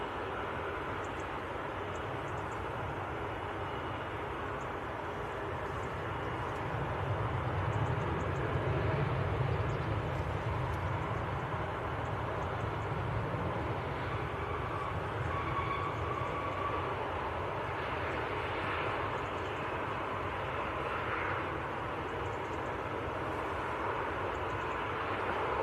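A TUI airliner bound for Tenerife rumbles at Manchester Airport, a steady broad roar of jet engines heard from a distance for the whole stretch, swelling slightly midway.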